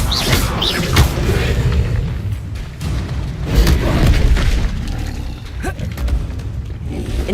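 Loud magical spell blasts from the Hogwarts Legacy video game, with booming bursts and crackling impacts repeating in quick succession over a busy background of game effects.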